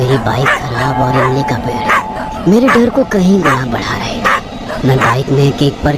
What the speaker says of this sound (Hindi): कुत्तों के भौंकने की आवाज़